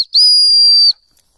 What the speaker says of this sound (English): we're going to use this whistle